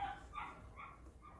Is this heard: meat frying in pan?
no